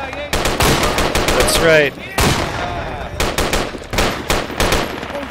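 Gunfire in the military shooter game Project Reality, with rapid, loud overlapping shots in bursts and a brief gap near the middle. Someone speaks briefly over the shooting.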